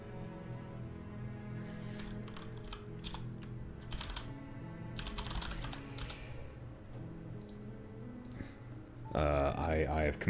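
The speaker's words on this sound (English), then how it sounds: "Sorry if you hear me viciously typing on the side here." Rapid, vigorous typing on a computer keyboard clatters in dense bursts alongside other room noise, with a louder burst of activity near the end.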